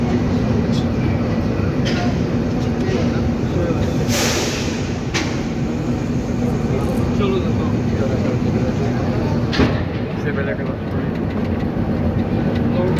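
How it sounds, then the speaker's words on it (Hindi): A passenger train pulls into a platform at Lahore railway station, with a loud continuous rumble of rolling carriages and a few sharper clanks, and muffled voices in the background. "लाहौर रेलवे स्टेशन की प्लेटफॉर्म नंबर 2 पर हमारी ट्रेन एंटर हो चुकी है"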